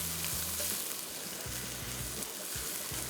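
Onion and garlic fry in a pan with a close, steady hiss of sizzling oil that holds without a break, alongside a few low rumbling stir movements.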